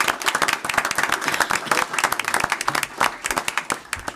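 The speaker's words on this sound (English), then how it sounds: "Let's do one more round of applause for everybody" Applause at a city council meeting, a lively round of many hands clapping close and loud, with sharp individual claps standing out over a few seconds.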